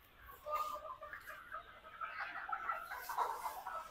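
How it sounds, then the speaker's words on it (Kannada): Inside a long poultry shed, a flock of chickens keeps up a faint, continuous chorus of soft clucking and chattering calls, heard from a little distance without talk. "ಇದೇ ನೋಡ್ತಿದ್ರಲ್ಲ, ಇದು ಕೋಳಿ ಶೆಡ್ ಇದೆ."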